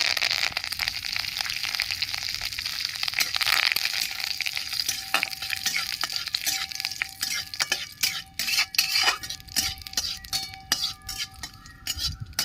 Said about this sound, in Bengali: শুকনো লঙ্কা দিয়ে দিচ্ছি কারি পাতা দিয়ে দিচ্ছি